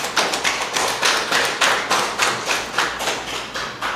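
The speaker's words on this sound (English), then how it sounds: "Give yourselves a round of applause." Applause at a press conference in Tobago: a loud burst of rhythmic group clapping with a fairly regular beat, close and continuous with no talking over it.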